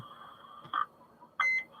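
Roger beep tones from a Galaxy 44HP CB radio: two short electronic beeps about half a second apart, the second longer and brighter, sounding over a faint steady hum with no talking.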